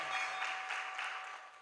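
Audience clapping at a Jain temple Gajrath procession festival, a soft, steady patter of many hands lasting about a second and a half, fairly distant and faint.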